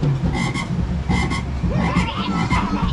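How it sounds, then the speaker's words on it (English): A recorded frog call played back at an animal-themed attraction, loud repeated croaks in several rhythmic bursts, up close. "that's our frog, right?"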